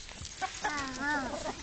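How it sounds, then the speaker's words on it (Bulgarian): A flock of farmyard chickens gives soft, short clucks and a brief drawn-out cackle, close and fairly quiet. "Виж колко много кокошки имаме."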